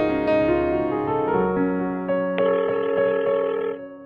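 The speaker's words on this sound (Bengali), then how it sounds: "এই, তুই একটু স্যারকে ফোন করে দেখ তো" A telephone call being placed: a string of steady electronic dialing tones plays, then a ringback tone repeats in even pulses, clear and alone with no talk.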